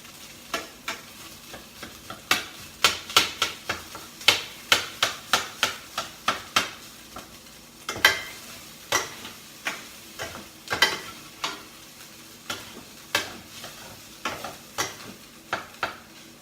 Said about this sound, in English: I'm just going to break it up so it crumbles for a little while and saute it in the pan